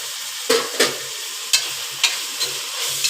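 Tomatoes sauté with ginger garlic paste in a hot pan for a chicken dish, a spoon stirring in several distinct scraping strokes over a low sizzle.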